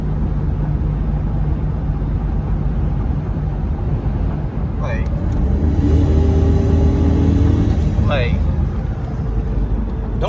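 A 2002 Dodge Ram 1500 pickup truck engine drones steadily up close with a road rumble, easing under braking and picking up again with throttle as it drives; a voice speaks briefly over it.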